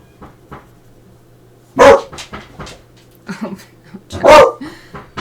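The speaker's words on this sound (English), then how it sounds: "And other neighborhood dogs are barking now." Neighborhood dogs bark in sharp, separate bursts, a few quieter yips early and two loud barks a few seconds apart, with a steady low hum underneath.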